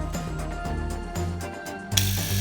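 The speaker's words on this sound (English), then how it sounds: "Now if I run this shaving trimmer" A Xiaomi Enchen Blackstone electric shaver with a 3D floating blade head runs steadily at close range, its motor buzzing with a rapid mechanical whir that briefly rises louder near the end.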